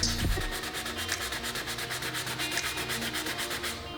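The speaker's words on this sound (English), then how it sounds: "I'm gonna take this sander block, and I'm gonna sand it down" Sanding block rubbed by hand over stained wood in steady repeated strokes, a close, even scratchy rhythm continuing throughout after a brief low thump at the start.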